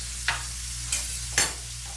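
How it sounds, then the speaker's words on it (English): Pork chops sizzle and crackle steadily in a hot pan, with a few short scraping stirs cutting through the frying noise. "you want it to sizzle because you want it to get nice and brown"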